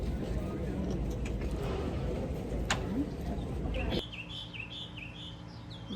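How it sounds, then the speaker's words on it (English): Spring morning birds chirp and tweet in bright short calls over steady low outdoor rumble, with a clearer run of repeated chirps near the end. "Birds are going wild this morning."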